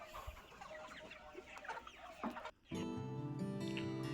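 Country crossbreed chickens cluck and chatter close by for a couple of seconds before a loud, steady droning tone abruptly takes over.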